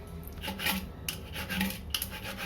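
Quiet scratching and rasping strokes, a few short passes of a screwdriver tip scoring a line across ceramic tile.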